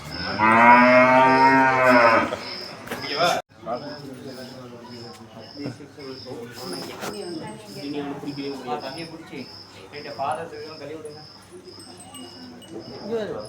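A cow lets out one long, loud, close moo lasting about two seconds, then people talk over a steady high-pitched chirping or ticking in the background.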